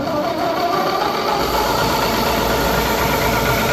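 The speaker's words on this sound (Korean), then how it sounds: "그럼 모터가 돌아가는 소리와 함께" Electric four-wheel high-pressure sprayer (100 L farm pesticide sprayer) with its motor running, a steady continuous mechanical hum and whir at constant level, close and alone.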